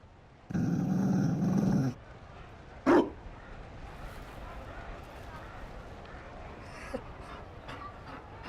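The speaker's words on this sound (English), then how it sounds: "You found a dog? They don't breed Mabari in Olay." A Mabari war dog in the video game Dragon Age: Inquisition gives a sustained low growl, followed by a single sharp bark, with quiet ambient game sound and faint voices around it.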